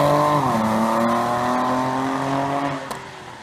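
A 2014 Ford Taurus SHO with a Corsa cat-back exhaust and Stainless Works downpipes accelerates with a loud, sustained raspy drone whose pitch shifts as the revs change. No one speaks.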